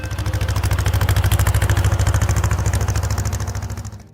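Vintage John Deere 40 tractor engine running steadily at close range, a fast, even low-pitched putter with metallic clatter over it, holding constant before easing off at the end.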